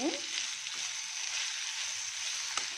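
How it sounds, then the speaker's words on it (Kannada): Cooked ivy gourd with green chili, coconut, cumin and salt sautéing in a pan, giving a steady close sizzle with a few faint scraping stirs and no talk. "ಇದೆಲ್ಲ ಚೆನ್ನಾಗಿ ಸ್ವಲ್ಪ ಬಾಡ್ಸೋಣ"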